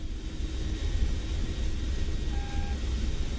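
Radar warning receiver beeps in the cockpit of an Mi-24P Hind helicopter in DCS, a short steady tone sounding once over a constant low engine and rotor rumble.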